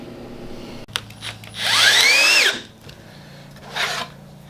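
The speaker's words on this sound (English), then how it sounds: "I'm screwing them together temporarily" A power drill whines up in pitch and drops again as it drives a screw into plywood boards, one sustained burst with a shorter second burst after, close and loud in a quiet shop.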